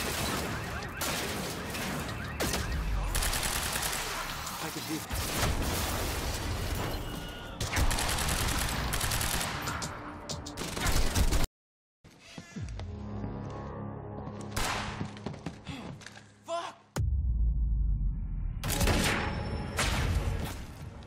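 Gunfire in the video game Quantum Break, dense bursts of shots and crashing impacts, loud and continuous, broken by a brief silent gap, then further clustered shots.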